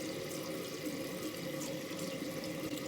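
Water runs steadily from a tap at a home sink during a facial routine, a soft continuous splashing flow heard quietly and alone.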